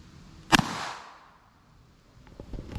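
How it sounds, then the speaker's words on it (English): A single sharp .22 Long Rifle shot cracks from a Beretta Neo handgun fired into a tire, a loud close report with a quick decaying tail, then near silence with faint handling noise. "next we're going to try the 22 long rifle coming out of the Beretta Neo handgun"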